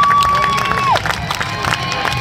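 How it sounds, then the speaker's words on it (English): A large arena crowd at a motocross freestyle show cheers and applauds loudly, with a whistle-like tone at the start and a dense roar of voices and clapping. "Give those 3 a massive round of applause."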